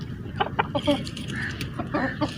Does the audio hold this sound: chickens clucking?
yes